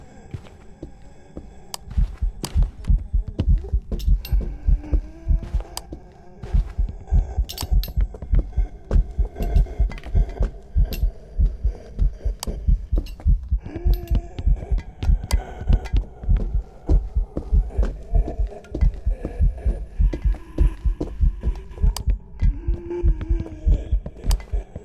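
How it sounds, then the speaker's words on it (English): Raiju ghost footsteps in the video game Phasmophobia pound rapidly and steadily through a hunt, a dense run of heavy low thumps over a droning hum, with a brief pause before the pace resumes. "listening to the footsteps during a hunt without electrical equipment and one with"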